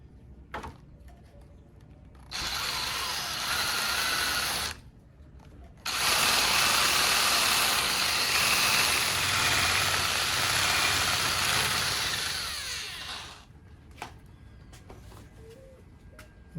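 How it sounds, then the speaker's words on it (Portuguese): A power drill bores out and widens a hole in a part of a truck-driver's lounge chair, running loud and steady in two long bursts, with a short pause between them and quiet at the start and end. "eu vou furar ele mais largo"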